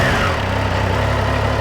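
A Triumph Tiger Sport 660 motorcycle with an inline-three engine holds a steady, loud exhaust note at a near-idle, with a dense low throb that stays even throughout.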